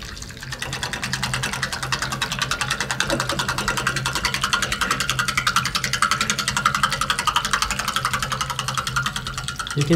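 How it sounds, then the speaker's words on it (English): A small homemade mixer motor runs steadily while mixing hot chocolate, a continuous buzzing whir with a fast, even pulsing rhythm that stays loud and close throughout, with no talk. "I will use this board to manage the motor of our homemade mixer."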